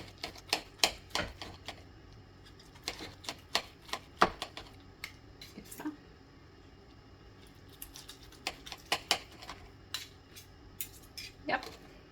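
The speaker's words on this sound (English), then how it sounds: "Yeah, this is so big, so I have to cut it like" A knife chopping vegetables for ramen on a cutting board, quick clusters of sharp taps and knocks with pauses between, close and fairly quiet, no talking.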